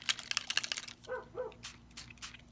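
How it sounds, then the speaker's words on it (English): A couple of short, faint dog yips or whines from pet dogs in a home craft room, heard behind paper rustling and handling noises. "we're going to hear the doggies bark"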